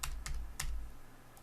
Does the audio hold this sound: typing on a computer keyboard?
yes